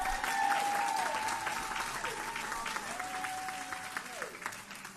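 Applause fills the hall as contest winners are honored at an oratorical competition, a close, sustained patter of many hands with a voice audible underneath the clapping.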